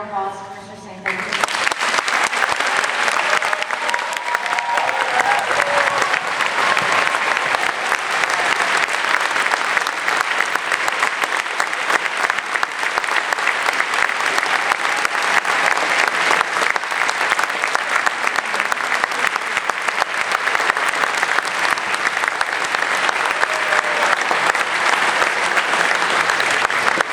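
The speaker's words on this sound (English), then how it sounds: "Can we have one last round of applause for Mr." Students in a school gathering give Milken Educator Award winner Mike Sinclair a long, loud round of applause that starts abruptly after a brief spoken moment and keeps up as a dense, steady roar of clapping, with occasional cheers.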